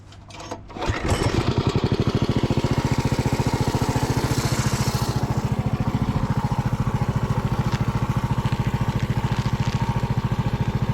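A Predator 420cc single-cylinder engine on a rental go-kart starts up and runs at a steady, loud, rapid thumping idle, close by, with no voices.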